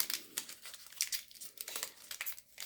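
A small candy bar wrapper is peeled open along its side, giving close, quiet crinkling and tearing rustles in short bursts with no talking.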